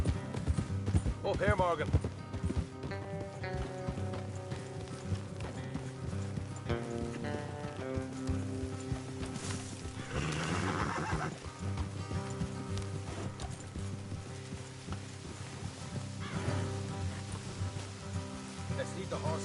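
Horses clip-clop steadily along a rainy path in the video game Red Dead Redemption 2, a continuous hoof rhythm under rain and ambient music, with a brief spoken line over it.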